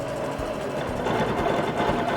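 A BERNINA Q20 quilting machine runs steadily while stitching, its fast mechanical whir holding at an even, close level with a slight rise partway through and no talk over it.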